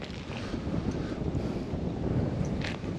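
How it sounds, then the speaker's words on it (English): A strong south wind rushes through three large oak trees at a lakeside campground, a steady broadband roar buffeting the microphone with no pauses and no voices. "you got a good south wind blowing through here in this shade"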